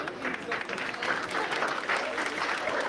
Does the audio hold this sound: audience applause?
yes